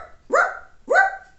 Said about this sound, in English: But then he heard barking too.